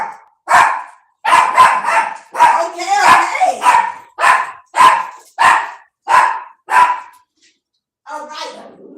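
A dog barks loudly and close by in a steady run of about ten sharp, evenly spaced barks, with a brief spoken word at the start.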